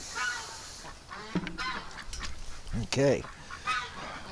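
Ducks and geese in a winter pen with hay give a few brief quacks and honks close by, mixed with a person's short spoken word and rustling movement.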